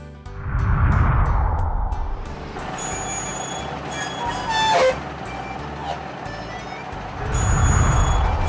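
A tow truck with its engine rumbling loudly at the start and end, a reversing beep and brake hiss sounding in between, close by and with no voices.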